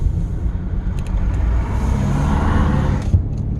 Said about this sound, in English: Lots of noisy stuff, lots of big trucks.